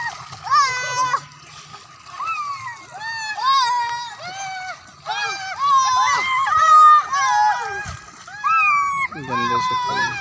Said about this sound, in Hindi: गरीब बच्चे गंदे पानी में नहाते हुए